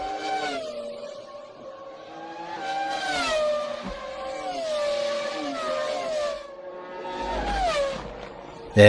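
Formula 1 cars scream past in waves, high-pitched engine notes rising and falling as several cars approach, pass and recede over the stretch, with no talk.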